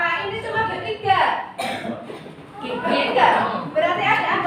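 A person coughs in a classroom during group presentations, with a short harsh burst among overlapping talk from students and a teacher.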